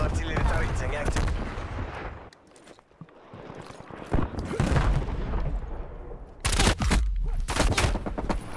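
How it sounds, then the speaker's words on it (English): Heavy artillery barrages and bursts of gunfire boom through a Call of Duty: Black Ops Cold War battle, loud and dense, easing briefly into a lull before another strong volley. "Artillery inbound."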